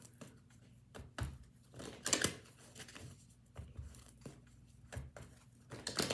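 Deck of tarot cards shuffled by hand in repeated bursts of soft riffling and flicking, close and fairly quiet, with short pauses between each pass.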